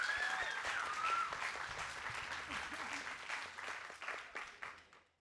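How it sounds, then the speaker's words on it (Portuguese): Audience at a book fair panel applauding an author launching her book, sustained clapping from a crowd with a few faint voices beneath, gradually thinning and tapering off at the end. "uma salva de palmas para Camila."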